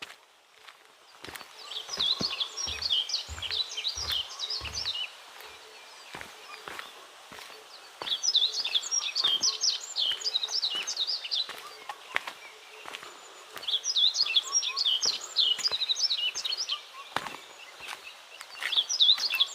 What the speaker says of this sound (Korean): 새소리 들리세요? 저 조용할게요.